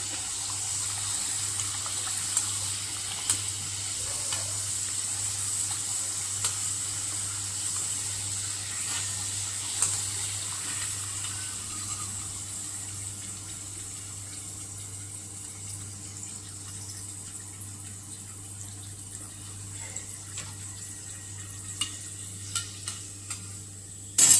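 Fasting food sizzles steadily in hot oil in a pan, a soft continuous hiss with faint stirring and clinks, nearby and alone without talk.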